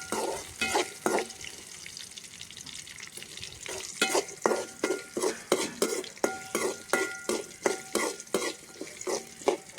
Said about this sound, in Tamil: அது கொஞ்சம் லைட்டாக வறுக்கலாம் பூண்டையும் எண்ணெயில்